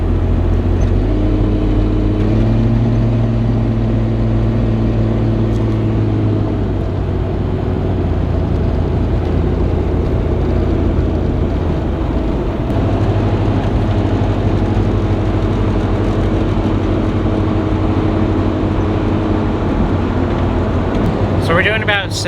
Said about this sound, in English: I'll include this clip right here of me driving on the freeway so you guys can hear the sound levels